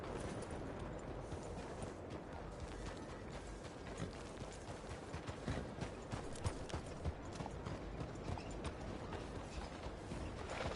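Hollow clip-clop of horse hooves in Red Dead Redemption 2 at a steady walking pace, faint and continuous under a noisy background of creaks and mechanical rattling.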